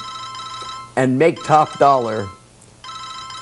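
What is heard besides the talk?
mobile phone ringtone ringing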